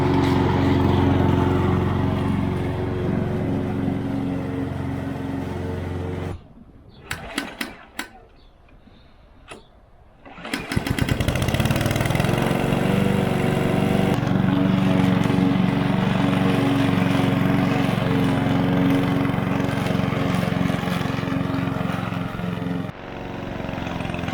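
A petrol lawn mower runs loudly and steadily, briefly dropping to a quieter idle with rattles before roaring back up.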